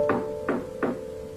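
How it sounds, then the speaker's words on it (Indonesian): Three evenly spaced knocks land on a door, close and fairly loud, over a faint background tone. "Tiba-tiba ada yang mengetuk pintunya"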